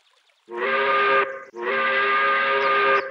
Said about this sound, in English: I think I should blow the train whistle so that she knows we're here